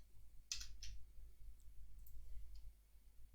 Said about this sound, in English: once you're done clicking that